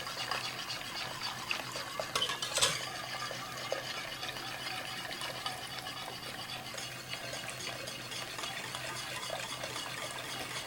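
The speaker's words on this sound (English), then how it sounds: "just keep stirring it around." Vodka being stirred into a coffee and sugar solution for homemade Kahlua, a steady wet swishing with occasional clinks of a utensil against the pot, close and fairly quiet throughout.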